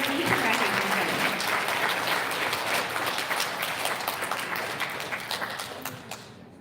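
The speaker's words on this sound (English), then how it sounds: "Big round of applause for all of our transportation recognition" Audience applause at an elementary school recognition ceremony for transportation awards, a full room clapping steadily and close, slowly fading out toward the end.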